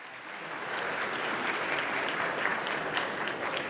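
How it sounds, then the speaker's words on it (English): Steady applause from an audience at a conference opening panel in a hall, dense and continuous clapping at moderate level throughout, with no speech over it. "Can we give them a round of applause as we depart?"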